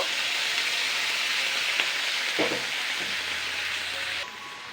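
Pumpkin frying in a pan, a broad steady sizzle throughout with a brief burst as water goes in, then the hiss softens slightly near the end.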